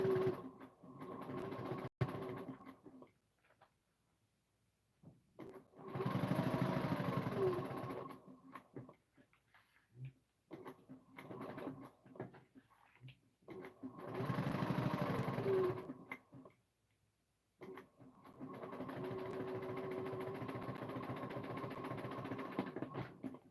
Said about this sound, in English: I'm just going to sew 1/8 of an inch down each side